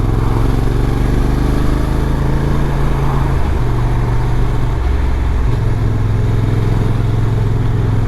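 A Honda NT1100 touring motorcycle being ridden, its engine humming steadily and loudly under constant wind rush, the pitch stepping between gears as the speed shifts.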